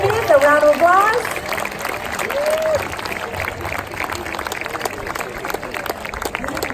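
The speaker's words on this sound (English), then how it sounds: "Let's give the American Spirit Certificate recipients a round of applause." At a middle school promotion ceremony, an audience applauds certificate recipients with a sustained crowd of claps that continues throughout, while a voice speaks briefly over it at the start.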